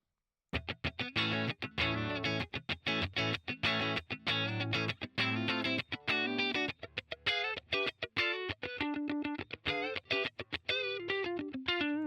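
Clean electric guitar through an FAS AX8 amp model with compressor, picked in quick, evenly compressed notes and chords, steady in level and ringing clearly with no voices.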